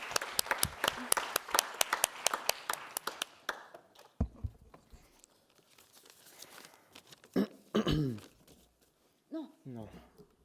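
A French awards ceremony audience gives brief applause for a prize presenter, a burst of clapping that fades after a few seconds into quiet rustling and scattered voices.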